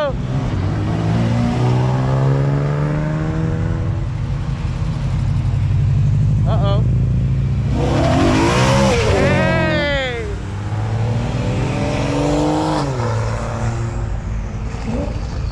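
A Ferrari accelerates away from a Cars and Coffee meet, a loud engine note rising through the gears and surging past nearby around the middle, with excited people talking and cheering over it throughout.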